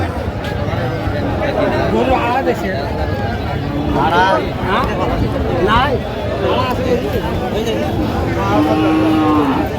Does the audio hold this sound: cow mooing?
yes